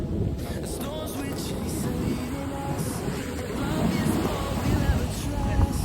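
Sea waves wash onto a beach in a steady surf roar, mixed with wind buffeting the microphone and building slightly toward the end.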